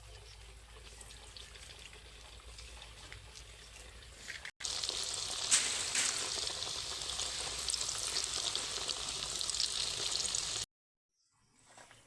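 Potato roll samosas deep frying in hot oil give a steady bubbling sizzle that swells louder midway, runs continuously, then cuts off abruptly near the end.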